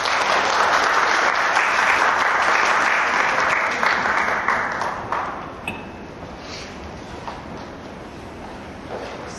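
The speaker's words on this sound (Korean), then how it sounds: "우리 이우재 교수님을 큰 박수로 모시도록 하겠습니다." A lecture hall audience bursts into sustained, loud applause welcoming a professor to the stage, dense clapping that fades down by about halfway and trails into a quieter room.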